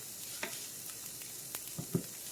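Ground turkey sizzles and fries in a big skillet, a steady low crackle with a few louder pops and stirring scrapes near the end; no talking.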